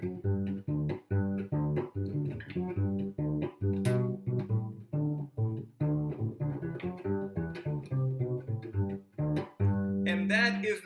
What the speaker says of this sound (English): that is the sound of the guitarrón